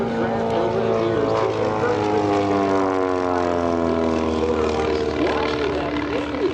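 An RV-8 kit-built monoplane flying at the EAA AirVenture 2025 airshow, a sustained propeller drone with shifting pitch as it passes, loud and steady, while an announcer talks over it.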